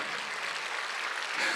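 A church congregation claps together during a Sunday worship service, a dense, steady wash of many hands with no pauses, filling the sanctuary evenly.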